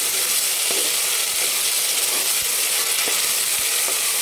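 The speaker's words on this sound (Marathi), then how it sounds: "तिचा पण कच्चेपणा थोडासा जाईपर्यंत आपण त्याला पण परतून घेणार आहे" Ginger garlic paste sautéing in a pan for mutton biryani gives a continuous bright hiss of frying, with a few soft spatula taps and scrapes now and then, close and steady, no voices.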